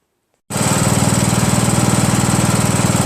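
A Craftsman LT1000 lawn tractor with a 15.5 HP Briggs & Stratton engine starts up abruptly and then runs steadily at its lowest governed speed after a governor reset. The drone is loud and close, with a fast, even engine pulse.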